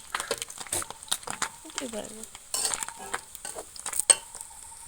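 Stingray pieces fry in hot oil in a pan, a soft crackling sizzle broken up by scraping and clinking as the fish is turned and stirred, all close up.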